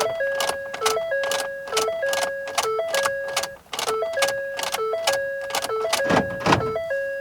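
Repeated chime tones cycle on and off in a quick steady rhythm, each with a click, as a Ford F-150's ignition key is turned on and off eight or so times.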